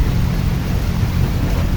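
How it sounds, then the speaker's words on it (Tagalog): Steady rain falls in a continuous dense hiss with a low rumbling undertone, loud and close, with no talking. "Umuulan pa naman."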